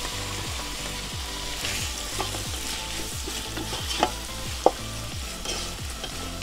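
Chicken being stir-fried into fried rice in a hot pan, with steady close sizzling and a repeated rhythmic scraping of the spatula, plus a couple of sharp metallic clinks partway through.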